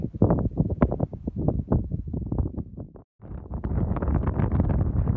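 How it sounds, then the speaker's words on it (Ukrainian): Strong wind on the Dnipro riverside buffets the microphone in heavy, continuous roaring gusts, briefly dropping out before blasting again. "Все, друзі, ховайся, бо вітер несамовитий."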